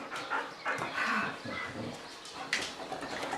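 A big pet dog in a home makes soft whines and short snuffly vocal sounds, close by and moderately loud, with brief bursts between quieter moments.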